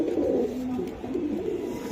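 A pigeon coos close by in low, rolling, throaty bursts that repeat steadily over a soft background hum.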